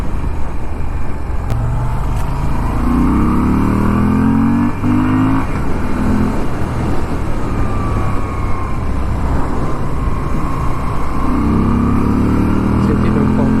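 A 2021 Moto Guzzi V7 motorcycle engine pulls hard through a gear on a test ride, its loud rising drone sweeping up in pitch twice amid steady wind roar.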